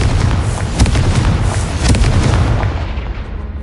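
A Confringo fire blast spell explodes in Hogwarts Legacy, with loud booming bursts rolling over a dense rumbling low-end bed, a few sharper cracks landing near the middle of the span.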